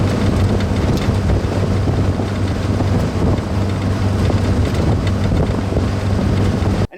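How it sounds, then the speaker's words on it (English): A WW2 Willys jeep's 60 horsepower 2.2 litre Go Devil engine running at speed, a loud, steady low drone mixed with heavy wind rush, continuous and unchanging throughout. "The note, the sound, the tone of the engine is completely rock steady,"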